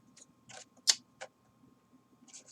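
Small fussy cutter scissors snipping paper for a craft project, a few quiet, crisp snips spaced apart, one sharper cut standing out over a faint low background hum.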